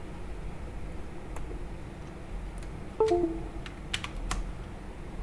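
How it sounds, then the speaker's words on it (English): Light taps on an iPad keyboard, a scattered handful of keystrokes over a quiet background hiss, with one short tonal beep partway through. "So I'm typing."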